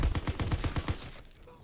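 Lee Enfield rifle gunfire in a video game gun mode, a rapid run of about eight close, punchy shots in quick rhythm that stops abruptly, followed by a quiet tail.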